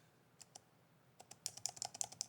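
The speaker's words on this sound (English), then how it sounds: "That's what the keys sound like." Light clicks of Lenovo Legion 7 laptop keys, a couple of isolated taps followed by a quick run of rapid typing, close and fairly quiet.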